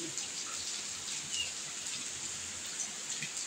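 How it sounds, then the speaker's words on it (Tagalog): Heavy typhoon rain falls steadily outside a house, a constant soft hiss of drops on surfaces. It sounds moderately distant, with a few faint chirps and drips above the wash. "Lakas ng ulan kasi."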